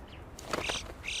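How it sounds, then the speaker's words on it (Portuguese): An alpine chough, a yellow-billed relative of the common raven found across the Alps at high altitude, gives a few short, high, squeaky calls that stand out against a steady wind-like background rush. "A gralha de bico amarelo é parente do corvo comum"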